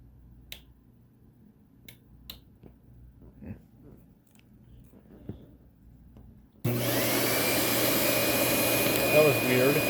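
A Proteam 1500 XP vacuum cleaner switches on with a single motor, jumping from a quiet room with a few clicks and taps into a loud, steady whooshing roar with a faint high whine.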